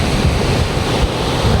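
Sea waves wash onto a beach in the evening, a steady loud rushing surf mixed with wind buffeting the microphone, with no voices.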